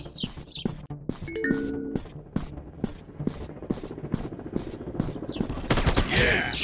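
Rapid gunfire from a PUBG-style counter-terrorist first-person shooter game, dense bursts of shots and clattering reports running continuously, close and loud, building into a heavier volley near the end.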